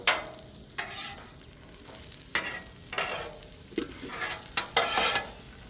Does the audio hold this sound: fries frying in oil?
yes